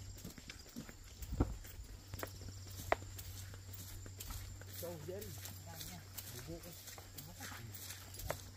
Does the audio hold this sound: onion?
no